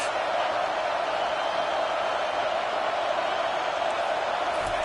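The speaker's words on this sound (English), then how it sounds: "It is getting loud as this crowd tries to help its defense." A stadium crowd in a college football video game makes a constant, dense roar that holds at an even level throughout, with no breaks or distinct voices.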